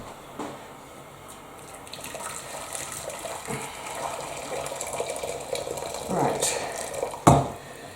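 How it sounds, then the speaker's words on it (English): Boiling water pours from a kettle in a home kitchen, a soft, trickling fill that builds gradually with small clinks and a sharp knock near the end, under light talk. "Right, boiling water in there."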